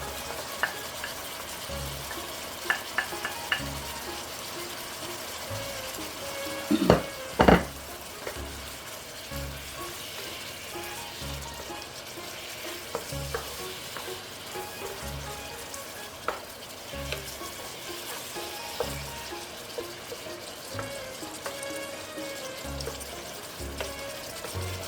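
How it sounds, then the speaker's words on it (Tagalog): Garlic sizzling and being stirred in a frying pan while cooking pancit, a steady low crackle running throughout with a few louder scraping knocks near the middle. "i-add natin yung ating garlic na tinatay natin kanina."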